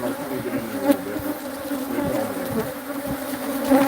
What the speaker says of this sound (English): this is Africanized bees